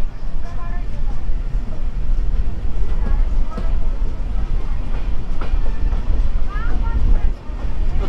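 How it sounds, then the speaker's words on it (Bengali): Tamralipta Express leaving Tamluk station, heard from aboard as a loud continuous low rumble with rhythmic wheel clatter, while people talk over it. "তমলুক থেকে আমাদের ট্রেন ছেড়ে দিল"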